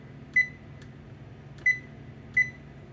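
Three short, clear electronic beeps from an oven control panel being set to 400, spaced about a second apart in a quiet kitchen with faint background hum.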